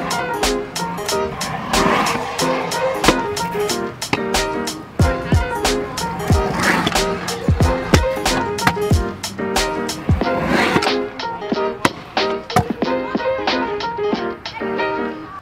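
A stunt scooter with a 7-inch wide deck rolls and clatters through a park run for a flare fly out, loud gritty wheel roar broken by repeated sharp deck and landing impacts.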